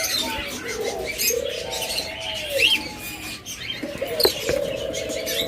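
Jenday conure parrots in a cage, with several short chirps and whistled calls rising over a low background hum, moderately near and without talk.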